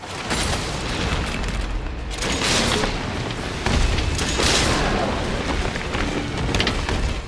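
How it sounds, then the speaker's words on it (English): The Infinite Rocket Launcher in Resident Evil 2 fires and sets off heavy explosions, a dense roaring boom with several swelling blasts and crackling debris that fills the whole stretch. "The Infinite Rocket Launcher"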